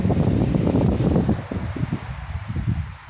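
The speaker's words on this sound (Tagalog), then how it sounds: "kusog kaayo ang hangin" Strong wind roars steadily during a storm in Camiguin, loud and gusty, with a rushing, rumbling texture that eases slightly toward the end.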